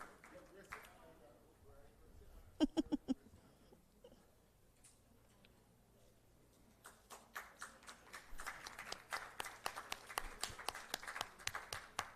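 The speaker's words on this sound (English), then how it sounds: "please, can we have a round of applause" At a report launch for a survey on violence against children and youth, a brief burst of claps sounds early, then after a quiet stretch the audience's applause builds into a steady patter of many hands over the final seconds.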